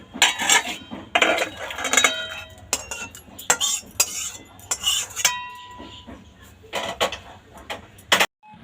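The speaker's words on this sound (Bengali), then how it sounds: "এবার আমি ডালটাকে একটা বাটিতে নামিয়ে নেব।" Boiled lentils cooked with bottle gourd are scooped from a pan into a bowl, with a run of close metallic clinks and scrapes of a spoon against the pan, some in quick clusters and some alone, with no talking.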